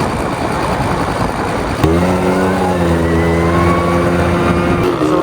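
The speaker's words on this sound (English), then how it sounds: "we are about to ride an ATV" An ATV engine rides out over sand dunes, starting as rough rumbling wind and road noise, then settling into a loud, steady engine drone that climbs slightly in pitch as it accelerates.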